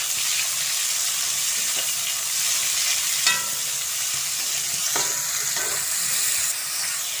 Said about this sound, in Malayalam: ഇനി ഇതിലേക്ക് അരിഞ്ഞു വെച്ചിട്ടുള്ള സവാള ഇട്ട് കൊടുക്കാം. ഇത് നല്ല പോലെ ഇളക്കി കൊടുക്കാം കേട്ടോ.